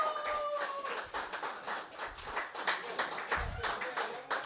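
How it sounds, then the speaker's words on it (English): Scattered, uneven clapping from a small group at a cricket competition, individual claps audible in a loose rhythm, fairly close, with occasional voices mixed in. "Give yourselves a round of applause for another 5 days of good cricket."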